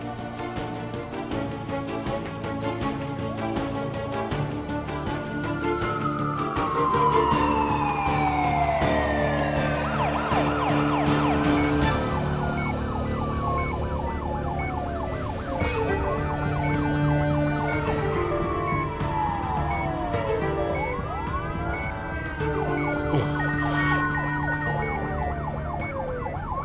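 An ambulance siren wails nearby, its rising and falling tone repeating over a steady engine rumble, loud and continuous throughout.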